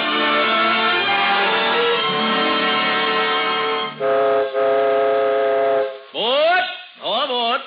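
A radio-drama train effect plays loudly: a sustained steam whistle chord holds for several seconds, then breaks into short pulsed toots and swooping whistle blasts near the end.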